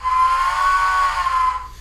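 A model train steam whistle from a Tsunami2 sound decoder gives one sustained, steady tone with a breathy hiss, close and fairly loud, lasting nearly two seconds before cutting off, with the whistle volume turned down.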